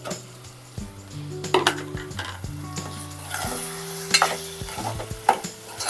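Ginger garlic paste sizzles steadily in a pan for a home-style dried fish tomato curry, with a utensil scraping and clinking against the metal several times. No one talks over the cooking.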